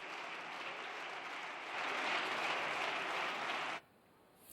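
Parliament members applaud in the chamber, a sustained round of clapping that grows a little louder midway, then cuts off sharply, leaving near silence.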